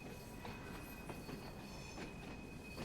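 A LMS Class 8F steam locomotive hauling about ten coal wagons through snow in Train Sim World 4, with steady faint rolling rumble and periodic wheel clicks over the rails, quiet and continuous, no voices.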